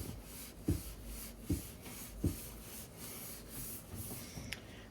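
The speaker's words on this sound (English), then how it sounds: "just using some Scotch-Brite, and I'm roughing up the surface a little bit" Abrasive Scotch-Brite pad scuffing the surface of a Kawasaki KE175 motorcycle part before painting, a steady close scratchy rubbing with three sharper strokes standing out early on.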